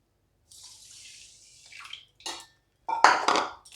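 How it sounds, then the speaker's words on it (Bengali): Water poured into a wok for a sugar syrup, a few separate close splashing pours with short gaps, the last burst loudest. "এবার যতটা আমি চিনি নিয়েছি তার ডবল জল দিতে হবে। আমি হাফ কাপ চিনি নিয়েছি, তার মানে আমি এখানে 1 কাপ পরিমাণ জল দিয়ে দেব।"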